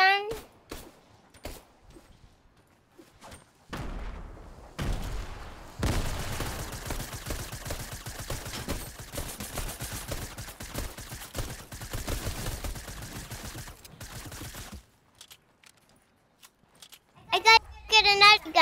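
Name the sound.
gunfire in the video game Fortnite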